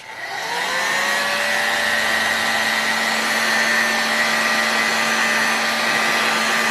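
A heat gun blows steadily on a Super Tigre S3000 model engine to warm it for a front bearing install, a loud continuous whir with a high whine that rises in the first second and then holds even, with no talking.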